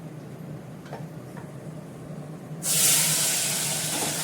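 Potatoes dropped into hot oil in a pan on an induction cooktop, with dried red chillies already in, start a sudden loud broadband sizzle partway through. The hiss stays strong and steady to the end, after quieter background and a few faint ticks.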